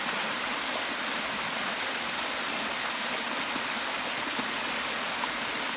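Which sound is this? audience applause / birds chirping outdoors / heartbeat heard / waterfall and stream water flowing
waterfall and stream water flowing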